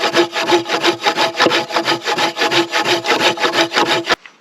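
A hand saw rasps through wood in fast, even back-and-forth strokes, loud and close, stopping abruptly at the end.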